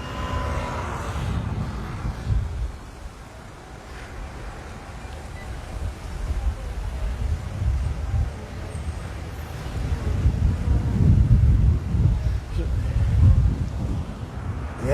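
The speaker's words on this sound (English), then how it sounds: "that wind is just cooking." Strong wind blows outdoors in Hawaii on a walk from Waikiki toward Ala Moana, a continuous low rumbling roar that buffets the microphone and swells louder in places, with talk heard over it.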